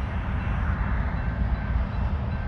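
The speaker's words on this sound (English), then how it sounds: "So the train does go right through town here." A train passes through a town on tracks running close to houses, giving a loud, steady, continuous rumble and rattle of rolling cars with no break and no talk.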